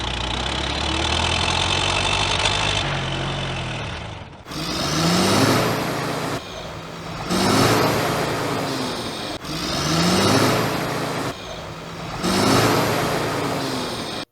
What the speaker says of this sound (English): As the tractor was chugging along his field, his engine started to get hot.